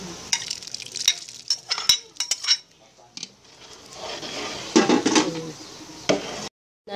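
A utensil stirring saba banana and sago in a pot for ginataan bilo-bilo, with irregular scraping and clinking strokes, a quieter stretch in the middle, then more vigorous stirring.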